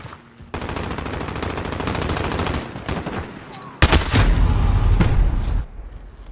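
Automatic Uzi fire in the Call of Duty Modern Warfare video game, rapid bursts of gunshots with loud booming impacts and a sustained heavy barrage near the end, no speech.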